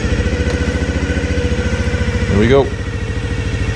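A Honda Dream 50 motorcycle engine catches and settles into a close, steady, rapid idle putter, with someone speaking briefly over it.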